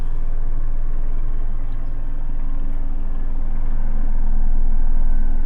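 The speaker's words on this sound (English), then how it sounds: "there's a helicopter probably chasing a drone right over us" A helicopter flying low overhead, a loud continuous rotor and engine rumble that holds steady, swelling slightly toward the end, with no talk.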